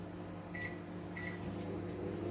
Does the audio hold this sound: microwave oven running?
yes